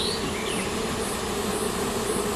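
Honeybees buzz in a dense, steady, close drone as a backyard hive is opened and smoked during an end-of-June inspection, with no voices over it.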